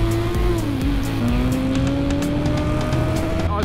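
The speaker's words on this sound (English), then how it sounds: "Oh, backfire! That's it. Listen to this." A 2023 Moto Guzzi V100 Mandello motorcycle engine runs steadily nearby, its pitch drifting as it revs, with occasional sharp pops of backfire over continuous road noise.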